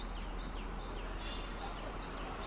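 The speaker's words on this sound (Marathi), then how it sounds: "बघा पक्ष्यांची आवाज ऐकताय तुम्ही" Birds chirp among trees in Ambernath, a few faint, distant calls over a steady, loud background hiss.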